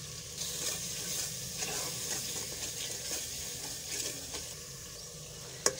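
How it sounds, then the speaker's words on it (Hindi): Ground spices (salt, turmeric, red chili, dried coriander) fry and get stirred in a pan for pumpkin dal, with a steady soft sizzle and scraping strokes throughout, fairly quiet and close. "मसाला जो है ये अच्छी तरह भुन चुका है।"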